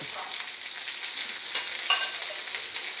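A single chopped onion with curry leaves fries in a pan. A bright, steady hiss of sizzling oil carries throughout with light stirring scrapes, close and moderately loud.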